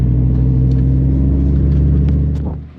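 A 2017 Dodge Viper GTC ACR Extreme engine revs hard and loud up close, a deep thunderous rumble holding steady before easing off, with a few sharp exhaust pops near the end.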